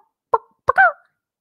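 A person's voice imitates a chicken with three short, clucking squawks, the last one drawn out slightly, against otherwise quiet surroundings.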